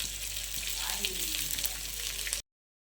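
Sliced onions and garlic sauté in a pan for a fish curry, giving a loud, steady hiss and sizzle for about two and a half seconds before cutting to silence.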